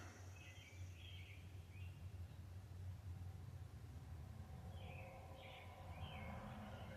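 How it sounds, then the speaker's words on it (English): Birds chirp in short bursts from a distance, one cluster early and another near the end, over a steady low rumble of traffic or machinery. "just taking a moment there to listen to those birds"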